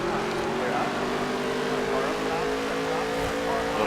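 NASCAR Heat 3 race cars roar together at the Talladega start in a dense, continuous engine drone, and a voice talks over it.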